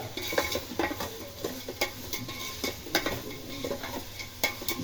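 Food frying with rock salt in a pan, stirred briskly so that scraping and utensil clatter ride over a continuous sizzle, close up and busy, with no voices.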